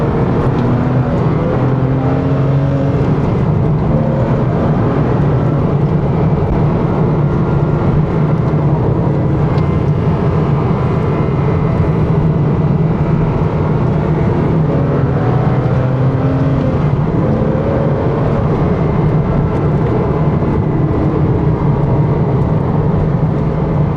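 A Porsche 987.1 Cayman S engine drones loudly and steadily from inside the car while driving, a continuous rumble mixed with road noise that holds throughout.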